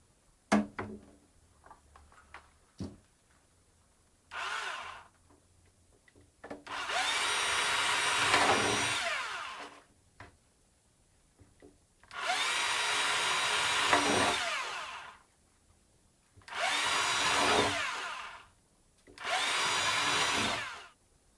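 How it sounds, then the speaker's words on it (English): Small drill bit boring a series of holes into the wood of an acoustic guitar, in four or five sustained bursts of high-pitched whine separated by brief pauses, close and loud. "we're going to use a very small drill bit and drill a series of holes along the lines"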